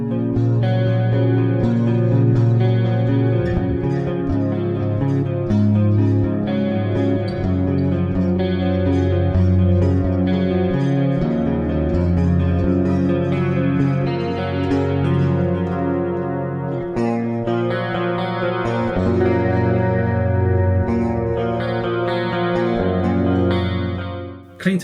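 Budget metal electric guitar on a clean tone, strummed and picked continuously with a full, ringing tone and light effects, chords sustaining throughout at a steady loud level.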